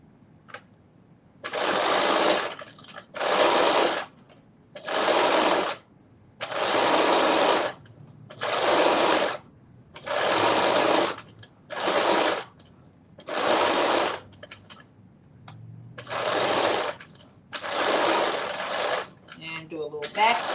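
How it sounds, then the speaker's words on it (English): A sewing machine runs a back stitch in about ten short, even bursts separated by brief pauses, close and clear, with quiet moments between runs. "Do a little back stitch"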